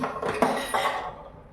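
Pressure cooker lid being set in place, a couple of quick close metallic clinks and a short scrape, brief and moderately loud, then fading to quiet.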